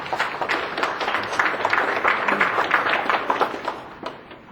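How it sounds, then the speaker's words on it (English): An audience at an evening lecture applauding the speaker: steady, dense clapping from many hands, moderately loud and sustained for several seconds before tapering off near the end. "Let's give him a round of applause."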